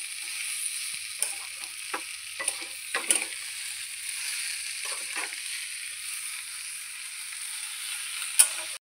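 Dried fish, potato, eggplant and egg fry together in a pan, giving a steady, close hiss of oil that runs throughout, broken by occasional clinks and scrapes of stirring.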